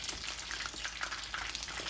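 Thai-style fried chicken wings bubble and crackle in hot oil, a continuous close sizzle with fine popping spatters throughout.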